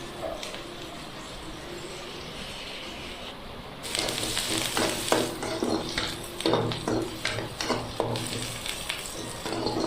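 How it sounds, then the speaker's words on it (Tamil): Curry leaves are stirred while frying in a pan for a Tamil-style chicken curry; after a quieter start, a hissing sizzle rises, with scraping and clinking of the utensil against the pan in an irregular rhythm. "கருவேப்பிலையை கொஞ்சம் போட்டுடலாம். போட்டு நல்லா கிண்டி விட்டுக்கலாம்."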